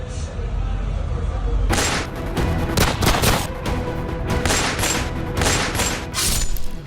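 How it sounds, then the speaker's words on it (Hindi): A shootout in Gokulpuri with about 16 rounds fired: after a noisy start, a string of loud, sharp gunshot bursts cracks out in quick irregular succession over several seconds. "हमलावरों ने करीब 16 राउंड फायरिंग की"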